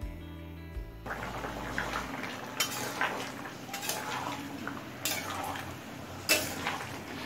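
Vegetables and hot water being stirred in a pan with a spoon, soft scraping and occasional metallic clinks against the pan at close range.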